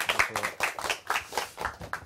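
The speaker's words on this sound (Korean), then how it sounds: "박수로 모시겠습니다" Applause from a small studio audience on a Korean talk show welcoming a guest, a few close, distinct claps in an uneven rhythm, fairly light and sparse.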